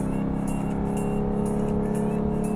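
A Lexus RC F, tuned past 500 hp, with its remote-controlled exhaust valves closed, idling or running at a steady low rumble with a muted, even tone and no revving.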